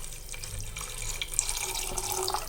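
Water is poured from a tumbler into a cooker pot holding rice and tamarind water for vatha kulambu rice, a steady, close splashing trickle that runs continuously without speech.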